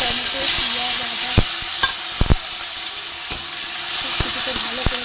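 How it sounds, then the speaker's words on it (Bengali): Tomato, onion, ginger and cashews fry in a pan over a gas flame with a constant close sizzle, punctuated by sharp clicks and knocks of a spoon stirring against the pan. "ভালো করে এগুলো ভেজে নেবো।"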